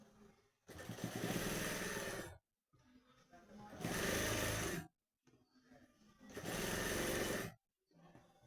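A tailor's sewing machine runs in three bursts, stitching a sleeve onto a ready-made shirt. Each close, steady whir lasts about two seconds, with short quiet pauses between.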